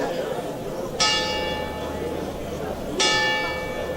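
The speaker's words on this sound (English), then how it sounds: "you can hear the church bells in the background there" Two bell strikes ring out about two seconds apart, their bright overtones lingering over a steady murmur of background noise.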